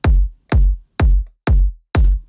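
Layered beefy kick drum for a progressive house track, five deep, punchy thumps at an even, steady pulse, loud and close with nothing else playing.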